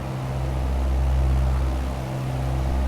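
Propeller plane engine droning steadily in Flight Simulator 2020 during a small-town flyover of Wright City, Missouri, a continuous low hum with a slight swell in the middle and no speech.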